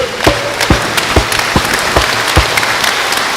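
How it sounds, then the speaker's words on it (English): A church congregation claps together as an offering during a healing service, sharp hand claps landing in a loose steady rhythm, loud and close over a dense crowd wash. "Come on, give a wonderful clap offering to the Lord."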